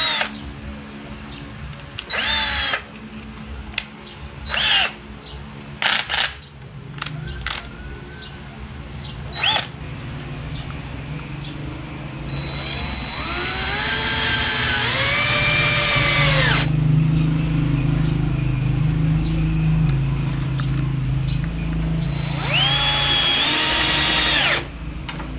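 A power drill drives the four screws of a deadbolt lock into a door: short trigger bursts and then long steady whirring runs that rise and fall in pitch, close up and loud, with no talking.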